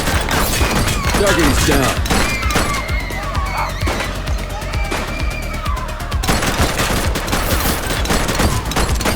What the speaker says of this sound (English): Gunshot! Evasive maneuvers! Firearm alert!